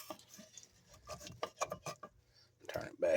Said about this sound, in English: Scrape all that goodness out.